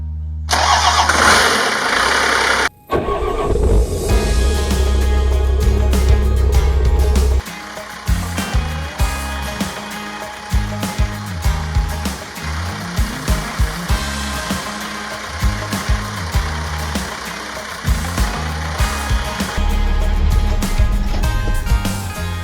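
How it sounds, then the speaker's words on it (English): A 1962 Chevy C20 truck's swapped-in Cummins diesel engine cranks briefly, catches, and settles into a rough, heavy idle with rhythmic chugging that keeps running. "see if she'll actually crank"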